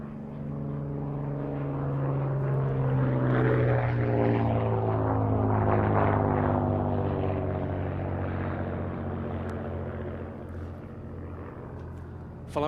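A restored Hawker biplane's piston engine drones past at an air show, a loud propeller hum swelling to a peak and then fading, with the pitch sliding downward as the aircraft passes.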